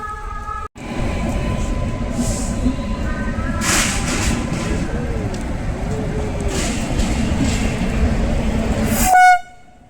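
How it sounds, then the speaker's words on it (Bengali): A train pulls into a station, a loud sustained rumble of wheels and carriages rolling close by, with brief horn toots near the end before the noise cuts off. "আমাদের ট্রেন আসছে।"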